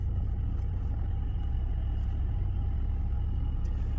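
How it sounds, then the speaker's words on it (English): Car engine idling smoothly after transmission fluid was poured into it, a steady low rumble with no fluctuation or roughness, continuous and close throughout. "Oh my gosh, my engine runs smooth, really smooth. There is no idle fluctuation, there is no rough idle."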